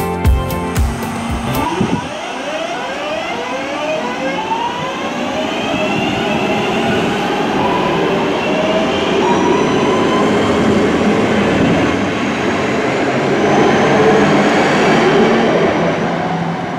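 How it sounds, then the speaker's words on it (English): A Northern electric train rolls into platform 2 at Godley station on the Woodhead Route, close and loud, its motors whining in rising and falling tones over a steady rumble, after a brief clatter at the start. "The next train to arrive at platform 2 is the 1347 Northern service to Hadfield."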